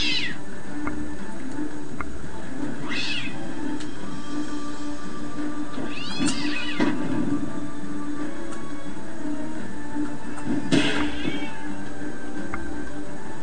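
A cat meows several times, close and clear, with a few separate cries spread apart over a steady low background hum.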